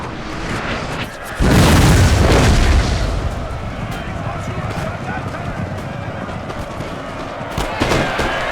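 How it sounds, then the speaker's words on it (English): Line infantry volleys crackle across a Napoleon: Total War battlefield, a heavy booming surge of massed musket fire followed by continuous rattling shots and battle din, with someone talking over it. "I guess some line infantry just shooting my lancers down."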